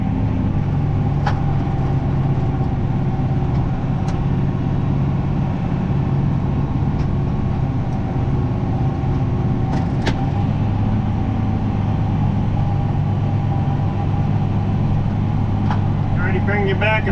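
A tractor engine labors uphill in a low gear while working a field during corn fertilizing, a steady loud low drone that holds throughout with a few faint clicks on top.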